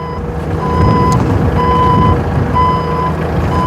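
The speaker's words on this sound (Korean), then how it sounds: "주행을 앞뒤로 주행을 이렇게 해봅니다." A used forklift drives forward and backward, its engine rumbling loud and close under evenly spaced high reversing beeps repeating about every half second.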